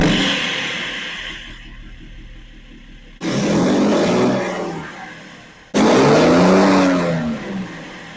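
A tuned BMW N57 diesel car engine roars through two hard, loud revs in quick succession, each surging up and then easing off.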